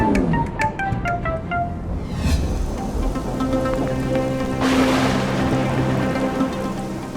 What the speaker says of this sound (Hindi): अरे कितनी तेज बारिश हो रही है